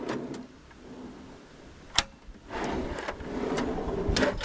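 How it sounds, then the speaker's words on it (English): A cutlery drawer in a camper van kitchen slides open with a rolling rumble and a sharp knock, followed by rattling and sliding sounds close by, with no talking. "Here you got your cutlery drawer,"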